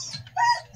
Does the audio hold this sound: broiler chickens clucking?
yes